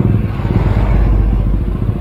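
Many motorcycle engines drone together in a night traffic jam near Universitas Jambi, a steady dense low rumble close by with no pauses.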